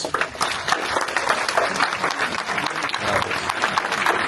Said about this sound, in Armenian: բարձր ծափարենք, եկեք ինքներս մեզ